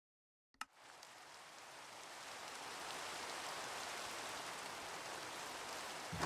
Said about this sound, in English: I wonder if that rain is affecting the crops, actually.